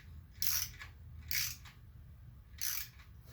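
A torque wrench tightening oil pan bolts on a Quad 4 E22 engine gives three short, crisp bursts of ratchet clicking, close by and separated by quiet pauses, over a low background hum.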